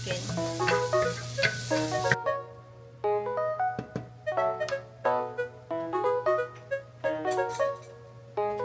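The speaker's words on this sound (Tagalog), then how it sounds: "Gusto ko lang kasi talagang igisa yung ating chicken." Chicken sautéing with garlic in a pan, heard as a bright, dense sizzle for the first two seconds before it cuts away to a melodic musical passage with no cooking sounds.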